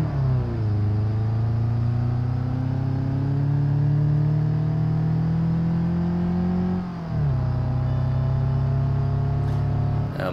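A car engine in BeamNG.drive pulls steadily under load, its pitch climbing slowly, then dropping sharply at a gear change before rising again; loud and close, with no talking.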